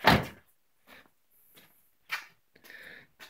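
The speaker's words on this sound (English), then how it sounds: "Let's close this door." A 1995 Mustang GT car door shuts with a solid thud, followed by a few softer knocks and clunks in an otherwise quiet shop.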